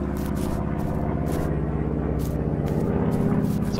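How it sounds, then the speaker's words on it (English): A helicopter flies in The Slaughtering Grounds video game, giving a steady mechanical drone with a rapid rhythmic chop from the rotors. It sounds moderately near and plays alone. "Where is this helicopter?"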